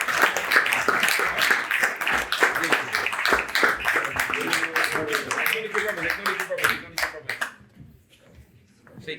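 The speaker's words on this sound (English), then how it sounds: "give him a round of applause" Clapping from an audience at a graduation ceremony for 8- to 12-year-old boys, sharp distinct hand claps in a lively burst with voices talking and calling over it, fading to a few scattered claps at the end.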